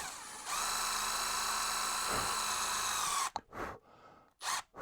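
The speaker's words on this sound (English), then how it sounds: "That's just drilling a new hole in this shaft." A power drill bores a new hole through the shaft of a Maverik Kinetik lacrosse stick head, a steady loud whine for about three seconds, then stopping with a few short bursts and handling noises.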